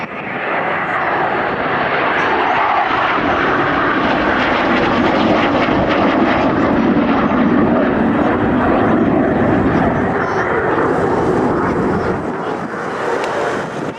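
A Eurofighter Typhoon jet roars loudly through a flying display at an RAF Cosford airshow, a sustained, powerful, broadband engine rush that swells and holds across the pass, with faint commentary beneath.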